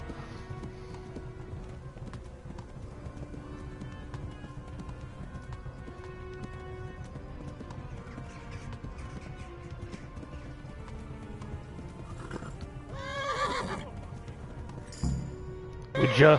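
Steady hoofbeats of a galloping horse in the video game Kingdom Come: Deliverance run under quiet ambience, with a brief whinny near the end.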